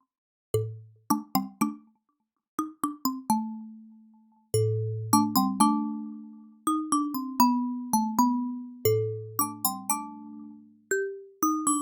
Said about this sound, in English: So here it sounds like a bell.